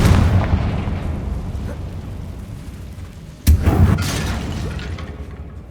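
The Confringo blasting spell in Hogwarts Legacy erupts in a single loud, sharp explosion midway through, followed by a short crackling tail over a low, steady background rumble.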